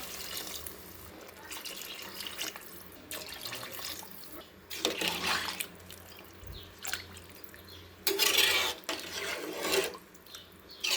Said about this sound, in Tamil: ஒன்றுக்கு ஒன்றே முக்கால் அளவு தண்ணி ஊற்றிக்கலாம்